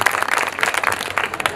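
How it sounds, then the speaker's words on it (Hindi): A crowd at a stage show applauds, giving dense, lively clapping for a brief moment, close and fairly loud, with a voice faintly present underneath. "इनके लिए एक बार जोरदार तालियों से"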